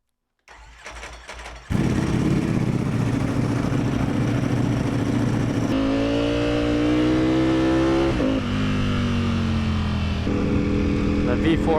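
A Ducati motorcycle starts up in a garage, a brief starter crank followed by the engine catching and idling loudly, then revving and pulling away as gears shift, up close throughout.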